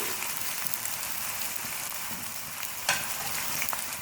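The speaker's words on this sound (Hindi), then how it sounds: "चिकन को हम प्याज जिंजर गार्लिक पेस्ट में फ्राई कर देंगे।" Chicken fries in a paste of onion, ginger and garlic, giving a dense, steady sizzle and crackle with a few brief spatters, close up and with no voices.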